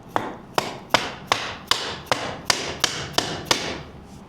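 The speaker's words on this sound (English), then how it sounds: "Little hammer whacking." A small hammer whacks a Pin It Racing TPI/TBI end cap into place on an engine, nine sharp close strikes at a steady, even rhythm with brief ringing decays and no talk.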